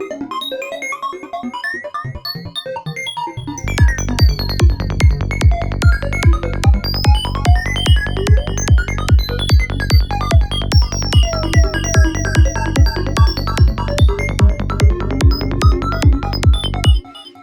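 Sylenth1 synth preset named Twisted Dimension: a sparse warbling intro gives way to a loud, driving pulse of rapid repeated bass beats topped with chirpy, shifting high synth notes, steady to the end.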